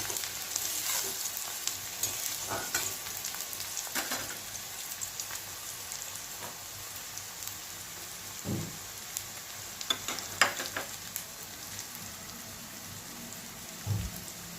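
Onions and curry leaves frying in a pan, a soft continuous crackling sizzle with occasional spatula knocks and scrapes, fairly quiet and without talk.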